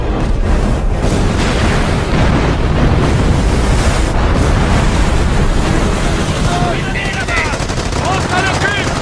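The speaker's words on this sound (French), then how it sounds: "Barrage d'artillerie!" An artillery barrage in a French-dubbed action film: dense, relentless rumbling blasts and rapid gunfire fill the scene loudly, with shouted voices partly buried beneath the roar.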